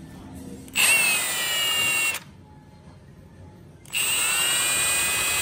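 A Milwaukee 2767 18V cordless impact wrench runs in two bursts of about a second and a half each, a loud high-pitched motor whine with a short quiet gap between them.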